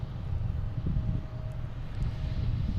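An American Airlines Airbus A320 departing Boston Logan for Philadelphia produces a steady low jet rumble with a faint whine, moderately distant and unbroken by voices.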